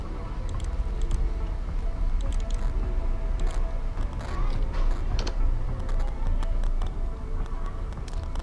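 Fingers type a text description on a computer keyboard, a steady patter of close key clicks over a constant low background noise.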